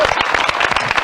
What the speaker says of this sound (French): et tout le monde applaudit